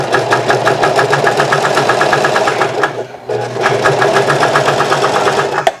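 An industrial serger trims and sews fabric for baby bloomers with a continuous close, loud mechanical whir. A brief pause comes midway before the stitching picks up again.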